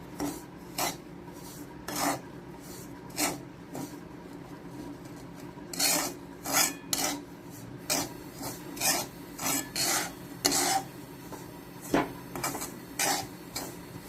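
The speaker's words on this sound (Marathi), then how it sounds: "दोन चमचे तूप टाकलं आता त्याच्यात भाजते थोडं" Semolina roasting in ghee in a pan for rava ladoos, with repeated raspy scraping strokes of a spoon stirring the grains at an irregular rhythm, close and moderately loud, with no talking.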